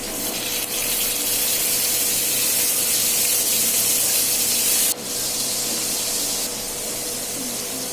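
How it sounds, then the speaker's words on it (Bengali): Poa fish rubbed with salt and turmeric frying in hot oil, a loud, steady hiss and spatter that drops briefly in level partway through before continuing. "এখন তেলে ভেজে নেব"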